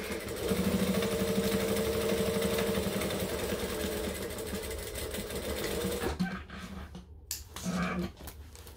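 A domestic sewing machine stitching through several thick fabric layers, a steady close whirring run for about six seconds, then short stop-start bursts with pauses between.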